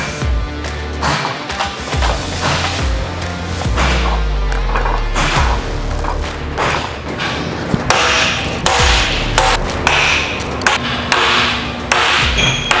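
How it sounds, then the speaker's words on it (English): Metal valves are loaded onto a valve stand rack in a shop, giving a rapid series of loud, close clanks, knocks and metallic thuds at irregular intervals for about thirteen seconds, with no talking. "So we'll start this process by loading our valves."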